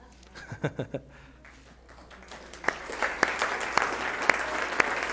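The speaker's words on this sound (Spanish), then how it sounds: "Ya no los tuve que regañar para que aplaudieran." Students in an instructional techniques class clap at the end of a presentation. A few separate claps come first, then the applause builds into a steady, moderate patter in a room.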